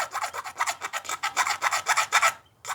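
Rapid rhythmic rasping of a knife blade scraping plastic off a busted lighter, close and loud, a steady run of short strokes with a brief pause near the end before resuming.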